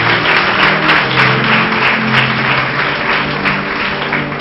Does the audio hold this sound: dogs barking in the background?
no